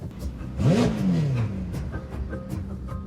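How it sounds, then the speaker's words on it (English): A car engine revs up sharply, its pitch rising then sliding down, followed by a lower steady running hum. "You hear the sex in the engine?"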